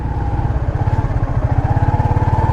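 A motorcycle engine idles and revs with a steady rapid pulsing throb, up close and loud, in a rainy park setting with wet concrete; no talk over it.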